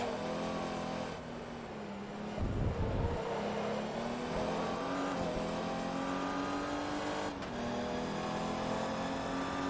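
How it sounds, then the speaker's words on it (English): A race car engine in Forza Motorsport 2 drones continuously at high revs, with shifting pitch and a brief dip mid-run, steady and loud with no voices. "This car does sound really nice, though."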